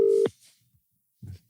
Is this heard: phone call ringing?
yes